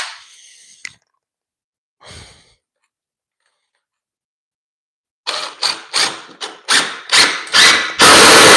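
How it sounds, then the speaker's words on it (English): Screws driven into a laundry wall: after a few faint scattered knocks and a pause, a loud close run of about eight quick mechanical bursts follows in a fairly even rhythm, ending in a sustained whir, with no voices. "Let's put a few more screws into it."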